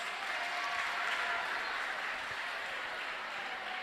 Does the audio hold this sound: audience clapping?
yes